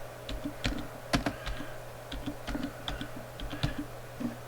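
Rapid typing on a computer keyboard, with crisp, close key clicks in an irregular rhythm over a steady low hum and no voices.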